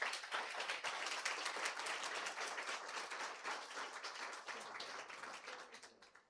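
A church congregation applauds steadily during a worship service, a dense wash of many hands clapping that holds for several seconds before tapering off at the end.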